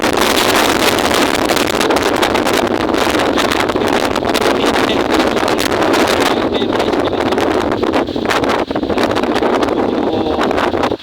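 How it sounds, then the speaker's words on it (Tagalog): Strong typhoon wind roars continuously and loudly, buffeting the microphone in a dense, unbroken rush with no letup and no talking. "Medyo lumalakas-lakas ng hangin guys."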